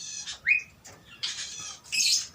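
A bar-winged prinia (ciblek) calls at close range in a few sharp, squawking bursts: a rising chirp, a longer buzzy trill, then a final harsh burst, with no one talking.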